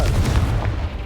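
A Confringo fire spell blast in Hogwarts Legacy, a loud, booming burst with heavy low rumble that rolls for about a second, close and alone.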